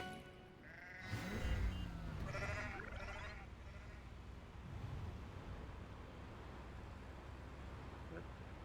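Video game sheep let out a burst of overlapping bleats early on, then the calls fade into a quiet ambient bed for the remaining seconds.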